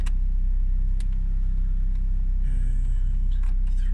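A Nissan Micra K11 engine idles with a steady low rumble inside the car cabin, continuous and even throughout, with occasional faint clicks and light rustles on top.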